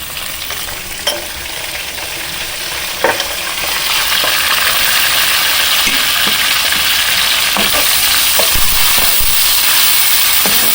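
Onions with garam masala fry in a pan, giving a loud, steady sizzle and hiss that grows fuller partway through. Occasional clicks and scrapes of stirring cut in briefly.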